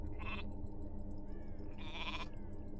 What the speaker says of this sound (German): Kann ich das Schaf mal wieder explodieren lassen?